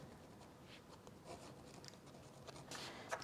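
A pen writes a label on an offcut of Saunders Waterford 300 GSM rough watercolour paper, giving faint, close scratchy strokes in short bursts that grow a little louder near the end.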